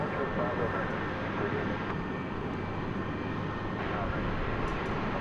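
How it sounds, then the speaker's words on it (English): A Cessna Grand Caravan propeller cargo plane at DFW after dark drones steadily and loudly as a broad, constant engine roar with no break or fade. "Pull over here real quick for another propeller aircraft, another Martin Air. This is a Grand Caravan."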